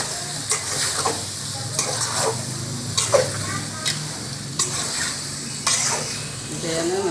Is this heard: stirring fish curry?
yes